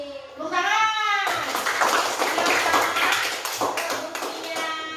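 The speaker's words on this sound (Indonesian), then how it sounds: "Tepuk tangan." A classroom of children clapping their hands together in a burst of dense, sustained applause lasting several seconds, preceded by a teacher's voice and a brief rising musical tone.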